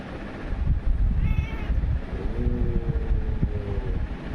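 A small white cat gives a few short, close meows over a noisy background, with faint wind rumble and no talk.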